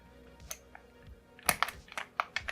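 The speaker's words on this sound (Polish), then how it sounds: "I zakładamy nakładkę na Enter." A keycap pressed onto the Enter key of a Yunzii AL65 mechanical keyboard, giving a few sharp plastic clicks and snaps close by, with faint handling taps before them.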